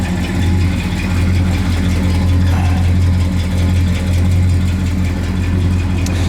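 A 1967 Plymouth Satellite engine idles steadily after a cold start on a long-parked car, a loud, close, continuous low rumble with a faint exhaust tick riding over it and no one talking.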